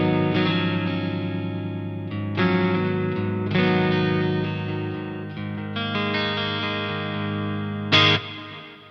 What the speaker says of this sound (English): So this is the sound of the guitar straight in.